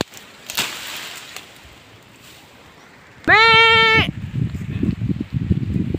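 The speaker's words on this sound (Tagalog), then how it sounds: "yung mga kambing po nasa loob ng kulungan" A goat penned in its enclosure lets out one loud, close, wavering bleat lasting under a second, with faint rustling and shuffling before and after.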